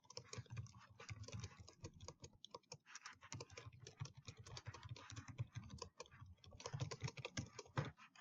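Computer keyboard typing out a code comment during game programming, a continuous patter of quick, close key clicks with small pauses, soft and alone.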